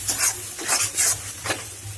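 A spoon stirs chicken masala with kasuri methi in a pan, giving a few rhythmic scraping strokes over a soft, steady sizzle.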